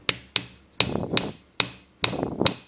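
Toy hammer cracking open a giant surprise egg: six sharp taps at an irregular pace, several followed by brief crackling and crumbling of the shell, close and fairly loud with no voices.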